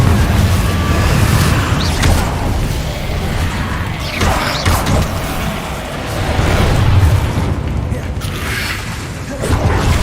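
Confringo fire spells blast in Hogwarts Legacy during combat, heard as a loud, continuous barrage of booming explosions and crashing impacts with creaking clatter, surging and easing in waves over ten seconds.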